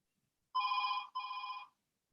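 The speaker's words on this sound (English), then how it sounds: "Phone's ringing. It's ringing." A telephone bell rings in two clear, steady bursts with a brief gap between them, close and alone in an otherwise silent room.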